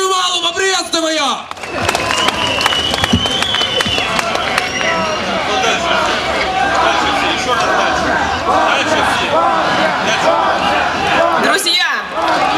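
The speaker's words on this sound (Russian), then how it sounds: "Аплодируем Аллу, поприветствуем ее." A large outdoor rally crowd at a Russian march claps, cheers and shouts for a woman introduced as a speaker, a loud sustained roar with voices calling out and talk over the start and end.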